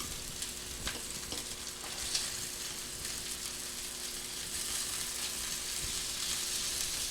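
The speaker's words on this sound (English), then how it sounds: "I'm going to turn my sausage down. It's cooking good" Sausage frying in a pan, a steady close sizzle and crackle that holds evenly throughout with a few small pops and stirring clicks, no talking over it.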